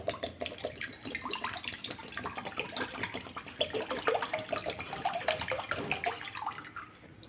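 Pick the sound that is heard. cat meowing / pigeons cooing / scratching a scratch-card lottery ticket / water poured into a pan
water poured into a pan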